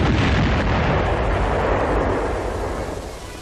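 A salvo of rockets launches from a Sherman tank's rocket launcher as one long, roaring blast of noise that slowly fades, heard alone.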